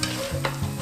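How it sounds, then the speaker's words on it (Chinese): Soaked rice cakes frying in a pan over low heat give a steady close sizzle with light crackling, alongside a low droning hum and no talking. "在煎年糕的时候用小火"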